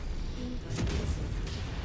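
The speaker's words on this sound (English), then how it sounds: "Incoming missile." Missile impact explosion in the MechWarrior 5 mech combat game, a dull booming blast with rumbling, crackling debris over a steady din of battle noise.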